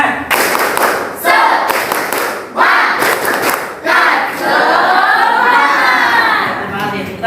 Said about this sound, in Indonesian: mari kita bersama-sama tepuk semangat ya.